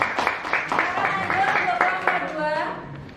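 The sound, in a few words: applause for the presenting group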